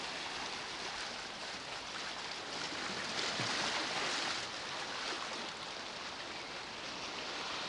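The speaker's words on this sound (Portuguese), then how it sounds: "Show esse sonzinho da água aqui" Sea water washing in at Laguna Beach, a steady broadband rush of waves and surf that stays loud and constant throughout with no voices.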